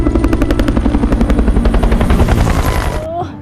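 A helicopter in the 2022 Korean zombie series All of Us Are Dead beats out a loud, fast, even rotor chop close by, then fades suddenly near the end, with a brief voice over it.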